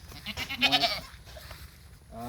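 A one-year-old male breeding goat on a goat farm gives one close, wavering bleat, then a quieter stretch of farmyard background.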